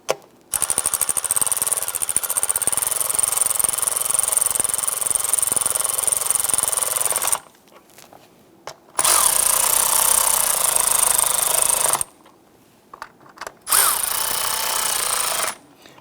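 A power tool snugs down 10 mm valve cover bolts on a 2011-2021 Jeep Grand Cherokee 3.6L V6, running in loud sustained bursts of about seven seconds, then a shorter burst and a final brief run, with quiet gaps between.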